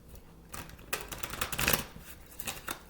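Large, heavy, stiff tarot cards are shuffled in a few short bursts of riffling and slapping, close and fairly soft, with brief pauses between.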